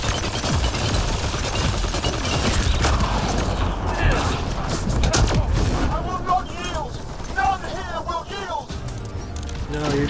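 Sustained weapon fire aimed at a glowing orb in Mass Effect Andromeda, a busy stream of shots and mechanical clatter under someone talking over the combat.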